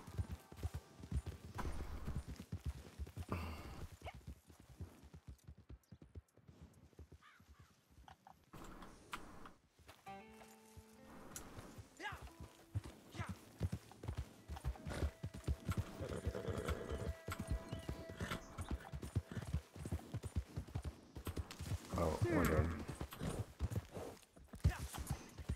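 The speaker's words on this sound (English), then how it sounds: "Can't make my horse stop running." Horse hooves clip-clop at a gallop in Red Dead Redemption 2, a fast rhythmic drumming that comes and goes among other game sounds and music at moderate level.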